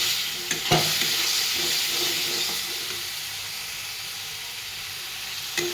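Boiled chickpeas tipped into fried spices in a pan for spicy bhelpuri, raising a broad hissing sizzle with a few utensil knocks at first, then a steady fainter fry alone.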